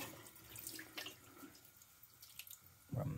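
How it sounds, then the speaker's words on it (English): A shaving brush being rinsed under a running tap, with steady quiet water flow and occasional splashes and drips, ending in a slightly louder gush. "Still gotta rinse my brush out the rest of the way."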